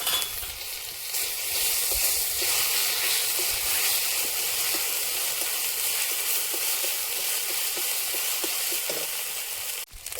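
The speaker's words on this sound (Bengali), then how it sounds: "ওই তেলে দিয়ে দেবো গোটা গরম মশলা, শুকনো লঙ্কা, দুটো তেজপাতা, আদা রসুন বাটা" Whole garam masala, dry red chillies and bay leaves sizzle steadily in hot oil, a dense bright frying hiss with small crackles throughout and a sharp clatter near the end.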